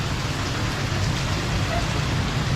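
Heavy typhoon rain pours down steadily in Hanoi, a dense, continuous roar of water on surfaces with a low rumble underneath.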